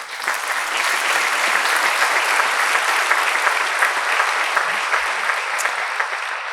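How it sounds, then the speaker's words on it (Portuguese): A talk audience at the Faz Acontecer Talks 2025 event gives sustained applause, a close, even wash of clapping that holds for about six and a half seconds. "uma salva de palmas para vós."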